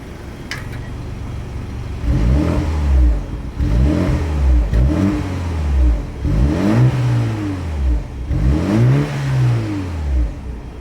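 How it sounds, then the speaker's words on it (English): A 2026 BMW 430i Coupe's exhaust revs hard about five times in succession, each loud, close burst climbing and falling back, with no one talking. "As always, here is that exhaust clip."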